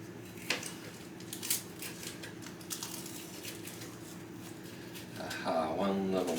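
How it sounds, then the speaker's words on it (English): A knife slices peppers into strips on a cutting board, giving a few sharp, close chops spaced about a second apart, followed by softer clatter of kitchen handling. "Just cut the peppers into strips."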